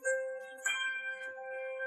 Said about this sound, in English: the bell rings and the speakers announce